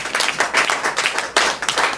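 A church congregation claps in a steady, brisk rhythm of overlapping hand claps, close and fairly loud, for a couple of seconds with no voices over it.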